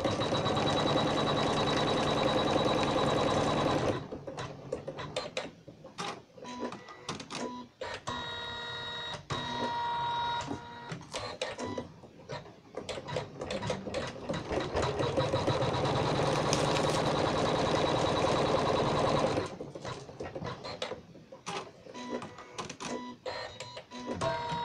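An embroidery machine stitches a bedside coaster in the hoop, a steady fast mechanical chatter with short pauses between stitching runs, loud and close with no talking.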